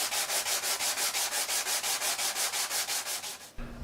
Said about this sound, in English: I'm going to sand the surfaces and at the same time roughen them out a little bit